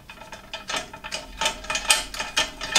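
A ratchet tightens bolts holding a sump bash plate onto the front frame rails of a Triumph Street Twin motorcycle, giving rapid clicking bursts in quick repeated strokes, close by.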